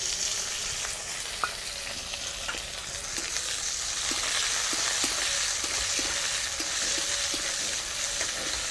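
Chopped onion frying in mustard oil with dried red chillies, black mustard seeds and five-spice for a brinjal chorchori, giving a steady close-up sizzle with occasional light clicks of stirring throughout.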